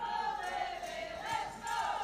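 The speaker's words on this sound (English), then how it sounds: "Livingston hearing the crowd now a little bit louder for them" Crowd noise at a British Handball Super Cup final swells slightly louder in support of Livingston, a steady roar from a large indoor audience with no talk over it.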